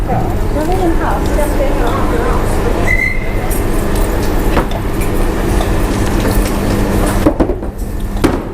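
Steady rumble of a train at a railway station, with a ramp set up for boarding, continuous and loud, with a brief high squeal, voices present and clattering knocks near the end.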